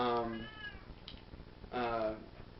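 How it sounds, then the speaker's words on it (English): A house cat outside a door gives two drawn-out meows, one at the start and another about two seconds later, fairly close and clear against a quiet room. "my cat's outside my door, and he's meowing a lot"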